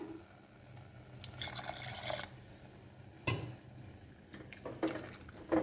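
Water poured into a pressure cooker of vegetable kurma, splashing in short bursts with drips and clinks of the metal pot, close and fairly loud.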